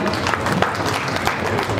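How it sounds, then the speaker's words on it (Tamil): An audience at a Tamil poetry recital during the fourth Sivaganga book festival applauds in a steady, loud wash of many hands clapping at once, with no break across the short stretch. "கைதட்டுங்கள், வாழ்த்துங்கள்"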